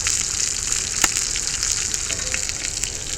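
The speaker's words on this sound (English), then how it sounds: "That griddle is hot. It's still popping." Hamburger steak and potatoes sizzle on a hot cast iron griddle: a loud, continuous close-up hiss with a sharp pop near the start.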